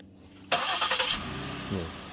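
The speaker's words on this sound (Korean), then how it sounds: "뭐 망설임 없이 바로 시동이 걸립니다." A 2019 Ford Flex Limited fires up via push-button start, a sudden loud crank and catch that settles into a steady mid-pitched idle with a brief rev bump near the end.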